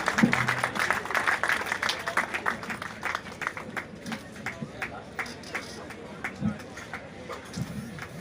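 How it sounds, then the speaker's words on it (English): A crowd claps at the prize distribution for a Rotary charity rain run, with dense, quick applause at first that thins into scattered, fading claps. "Keep that applause coming."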